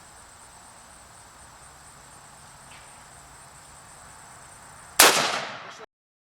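A single loud AR-15 rifle shot fired outdoors at a target in grass, a sharp close crack with a short ringing decay, after several seconds of quiet outdoor ambience with faint insect buzz.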